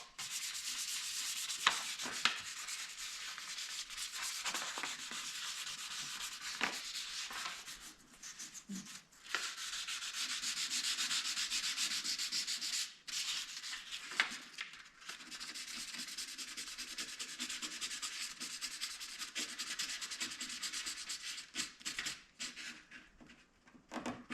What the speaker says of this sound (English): We got 1000 grit right here. Gonna give it a quick sand.